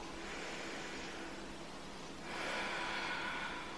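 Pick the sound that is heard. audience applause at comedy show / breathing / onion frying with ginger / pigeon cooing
breathing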